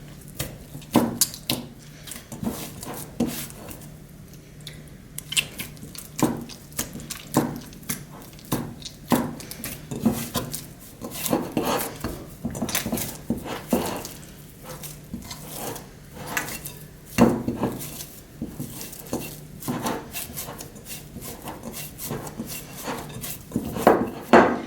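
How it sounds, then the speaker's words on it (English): Roti atta dough kneaded by hand in a bowl, producing irregular soft thumps, squelches and scraping rubs against the bowl, close and fairly quiet, with no talking. "It's still a little bit hard and we want it really soft, so I'm going to knead it a little bit further."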